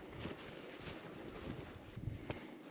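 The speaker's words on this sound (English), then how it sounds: "The wind is kind of blowing the smoke away." Wind blows across an outdoor campfire site on a cold night, a faint, steady broadband rush with soft gusts and small bumps, no voices.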